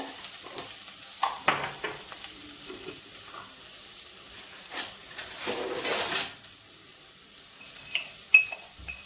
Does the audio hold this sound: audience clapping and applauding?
no